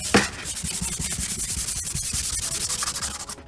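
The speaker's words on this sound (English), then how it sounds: "now with a block sander, I'm just gonna hit it with some cross hatching" Sanding block rubbing back and forth across guide coat on an Audi TT body panel in a cross-hatch pattern, steady rhythmic scraping strokes, close and fairly loud, no talking.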